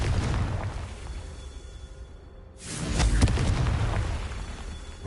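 Confringo spell blasts in the Hogwarts Legacy video game, a rumbling explosive roar that fades out, pauses briefly, then a second louder boom surges up and rolls on with crackling debris.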